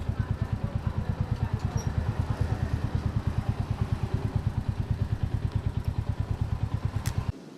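A motorcycle engine idles close up with a rapid, even, chugging pulse as the bike is parked outside a hotel in Rudraprayag, running steadily before cutting off abruptly at the end.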